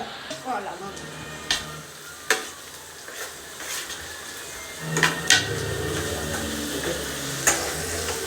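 Onion, green chilli, curry leaves and tomato frying and being stirred in a pan, a steady close sizzle with spoon scrapes and knocks against the pan, under faint background voices.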